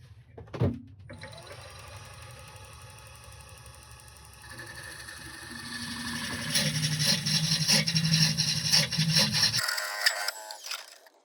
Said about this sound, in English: going to part this off here and hollow out the inside